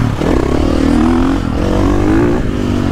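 A 2022.5 KTM 450SXF Factory Edition motocross bike revs loudly and close by, its engine note rising and falling in two steady surges with a mechanical clatter under it, no voices.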